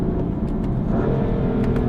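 A BMW M4 engine pulls hard under acceleration, a steady deep rumble and drone heard from inside the car, loud and continuous with no talk.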